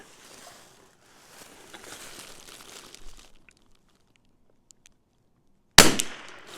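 A single loud, sharp crack from a CZ 457 rimfire rifle follows several seconds of faint outdoor rustle and near silence, with the report quickly decaying.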